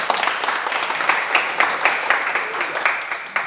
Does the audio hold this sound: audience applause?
yes